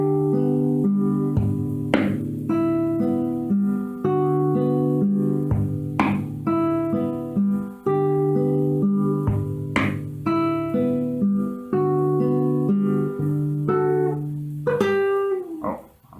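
A guitar plays the main riff of Vivaldi's Summer as a rock-style arrangement, picked notes in a rapid repeating pattern over held bass notes, clear and close with a slide near the end.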